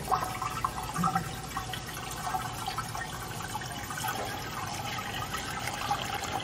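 Liquid pours steadily from a six-quart container, a continuous splashing gush heard close and alone for several seconds.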